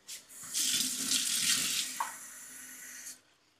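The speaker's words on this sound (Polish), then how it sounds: "I do wyrobienia seteczkę zimnej wody." Cold water is poured steadily into a sausage meat mixture for kneading, a close, even splashing stream lasting about three seconds with a soft start and a tapering end.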